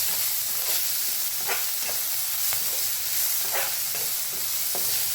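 Soaked peanuts sautéing in oil with onion for a sprouted moth bean curry, a constant bright hiss of frying with occasional scraping stirs of a spatula, close and unbroken.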